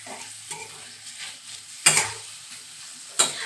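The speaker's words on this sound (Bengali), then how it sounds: "এরপর আমি এই চিনিটা মিশিয়ে দিলাম।" Sugar stirred into a pan of banana flower and prawn curry, a soft scraping stir with a couple of sharper clinks of spoon against metal, close and alone without talk.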